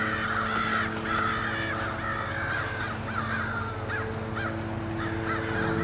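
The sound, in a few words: crows cawing while mobbing a great horned owl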